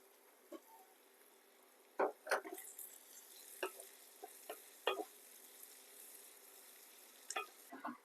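Slit green chilies and curry leaves sizzle in hot oil in a pan for crab pepper masala. Soft frying crackle runs throughout, with sharp pops and spatters scattered through the clip. The sound is close but fairly quiet, and nobody speaks.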